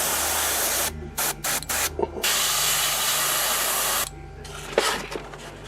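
An airbrush sprays transparent brown paint coats onto a model Ork Flying Coffin bomber, hissing steadily in short bursts and longer passes close up, with brief pauses between sprays.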